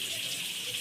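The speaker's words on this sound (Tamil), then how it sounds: "அதுக்கு தக்கன அளவாக நீங்கள் தண்ணி ஊற்றிக்கோங்க." Water streams steadily into a cooking pot of chicken, a continuous close splashing gush with no speech, lasting under a second.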